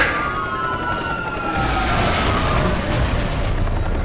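A police helicopter in the racing game Need for Speed: Hot Pursuit (2010) drones steadily through a chase, with engine roar, swept sirens and game noise, loud and continuous for several seconds.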